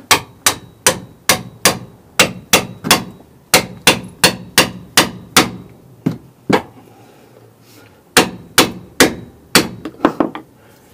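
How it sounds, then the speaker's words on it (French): A small sledgehammer strikes a ball joint separator fork wedged in a car's suspension wishbone. About two dozen sharp metallic blows land in quick, even runs with brief pauses, loud and close. "je vais utiliser une petite masse et je vais frapper"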